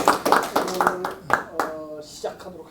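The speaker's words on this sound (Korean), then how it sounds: "박수로 맞춰주시기 바랍니다." A small audience at a Buddhist forum lecture claps to welcome a speaker: scattered, uneven handclaps mixed with someone talking over them.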